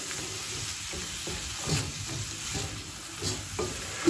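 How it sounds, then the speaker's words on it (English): Onions caramelizing in a pan on a small burner over high heat give off a continuous, moderately loud sizzle, with a few soft knocks and bumps in between. "So I have this on my small burner right now on high because the onions, now we want to caramelize them"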